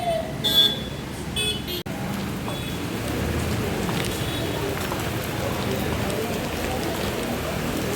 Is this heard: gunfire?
no